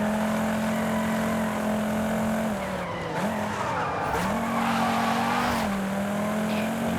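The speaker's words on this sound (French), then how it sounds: "Le petit drift." In the Forza Horizon 5 racing game, a Koenigsegg Jesko drifts with a sustained engine drone and long tyre squeal, its pitch dipping and rising as it slides, loud and continuous.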